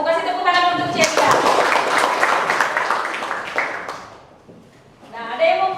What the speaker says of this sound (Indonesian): Kasih tepuk tangan untuk Ceria.